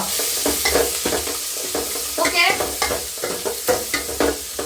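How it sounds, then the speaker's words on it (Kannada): Peeled garlic, onion and dry red chilies frying in hot oil, a steady close sizzle with stirring scrapes and clatters running throughout, no talking. "ಬೆಳ್ಳುಳ್ಳಿನ ಪೂರ್ತಿ ಸಿಪ್ಪೆ ಬಿಡಿಸ್ಕೊಳ್ಳಿ ಬಿಡಿಸ್ಕೊಂಬಿಟ್ಟು ಎಣ್ಣೆಯಲ್ಲಿ ಫ್ರೈ ಮಾಡ್ಕೊಳ್ಳಿ"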